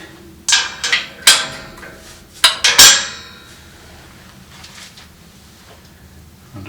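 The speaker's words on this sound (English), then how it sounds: "Drop the bolts in." Metal bolts dropped one after another onto a boiler flange during a repair in a 187-year-old house, giving several sharp, close clinks and clanks in an uneven cluster over about two and a half seconds, then a quiet room.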